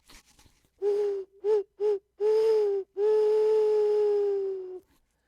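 A person imitates an owl's hoot, calling to attract an owl looking for a mate on a winter night: a couple of short hoots, then a longer hoot and a drawn-out, wavering final call, close and clear against quiet.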